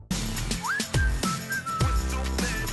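Catchy whistled melody from a pop song, bright sliding notes over a thumping beat and backing music, clear and upfront.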